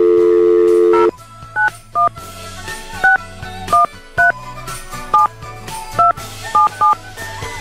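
Touch-tone telephone keypad beeps as a number is dialed for a radio station's call-out giveaway, a long dial tone first, then a steady series of separate key tones spaced about half a second apart over a low hum.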